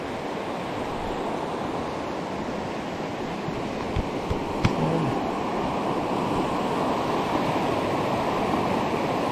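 Glacial runoff of Big Pine Creek, fed from the Palisades Glacier, rushes steadily beneath a small footbridge, a dense continuous roar of flowing water with a couple of faint knocks partway through and no talking.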